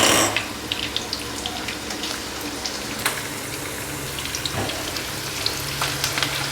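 Green chillies and onion fry in hot oil in a pan with a steady, loud sizzle and crackle, scattered pops breaking through the continuous hiss.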